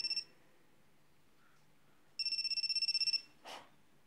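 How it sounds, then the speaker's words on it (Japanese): A phone rings with an incoming call: a short electronic ringtone burst, a pause, then a longer run of rapid pulsing tones, followed by a brief soft rustle in an otherwise quiet room. "ちょうどかかってきたな。"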